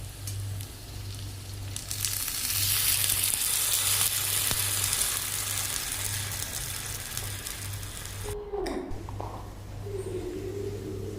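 Hot phodni (tempering) poured over freshly steamed khaman dhokla gives a loud, steady broadband sizzle lasting several seconds, then cuts off abruptly, leaving faint kitchen sounds and a low hum.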